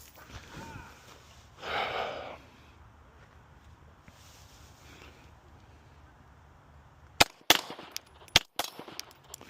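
Pistol shots fired as doubles at a shooting range. After some quiet talk and rustling, a string of sharp, loud cracks comes in quick pairs near the end, close by and punchy.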